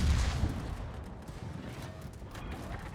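The Tirpitz battleship fires its big guns in a naval video game, a heavy low boom at the start fading into rumbling noise and a few distant cracks.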